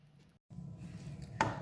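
Rabbit meat being chopped for a Kerala-style roast gives quiet knife strikes on a board, with a short pause and then a sharper, louder chop near the end.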